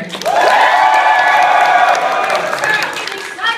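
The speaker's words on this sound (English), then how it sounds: "If you think Wolverine had the better description, clap and cheer." A comic-con crowd claps and cheers in a short, loud burst of applause with excited shouts and whoops, voting for Wolverine at a panel debate, sustained then easing slightly.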